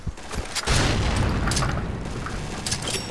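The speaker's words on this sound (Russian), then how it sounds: "Граната!" A grenade blows up in the shooter game Point Blank: a loud, close boom that fills the space, followed by a rumbling tail and scattered crackling gunfire.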